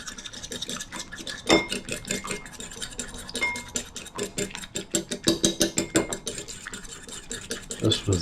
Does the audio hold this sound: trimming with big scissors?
no